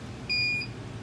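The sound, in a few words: Zosi security camera beeping on motion detection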